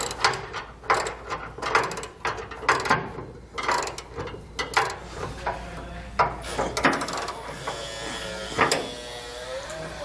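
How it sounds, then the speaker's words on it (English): Ratchet wrench with a 13mm socket tightening a flange nut on the locking pin of a B and W Turnoverball underbed gooseneck hitch in a 1996 Ford F-250 bed, giving bursts of rapid clicking and metallic clatter, close and fairly loud, with no talk. "We're going to come back with a 13mm socket and tighten down our flange nut on"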